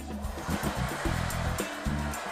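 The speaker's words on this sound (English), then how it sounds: "Clearly my hairdryer from home." A hair dryer blows with a steady whooshing roar, its motor tone shifting pitch slightly as it moves, close and fairly loud.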